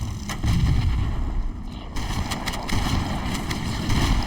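Rocket launcher fire in the Halo video game, a string of heavy booming blasts and rumbling explosions landing at intervals over continuous loud game noise.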